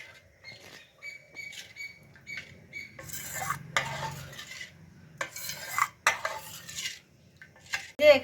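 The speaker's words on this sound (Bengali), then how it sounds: "এবার আমি টক দইটা দিয়ে দিচ্ছি। এগুলো ভালোভাবে মিশিয়ে নেব দুধের সাথে।" Sour curd and ripe mango are stirred into milk in a bowl: irregular spoon scrapes and light clinks against the container, close and fairly quiet, with pauses between bursts and no speech.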